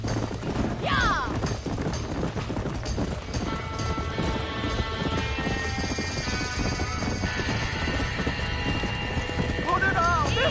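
Horse hooves clip-clop steadily with a loud whinny near the start and another toward the end, as horses are led from a burning barn in Red Dead Redemption, under a busy, continuous game soundtrack with voices.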